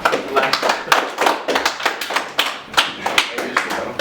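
Crowd at a rap battle tournament claps steadily for several seconds, a dense run of hand claps and taps with scattered voices mixed in, fairly close and loud.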